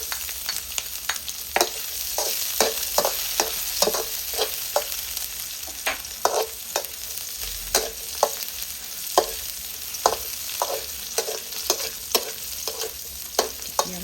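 Garlic stir-frying in pork lard in a pan, giving a continuous close sizzle with frequent, rhythmic clacking strokes of a spatula throughout.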